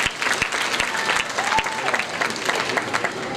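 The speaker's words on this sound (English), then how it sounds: "Round of applause for Anita." Applause from an awards ceremony audience, a sustained burst of clapping from a crowd with sharp individual claps near the front and a voice briefly audible.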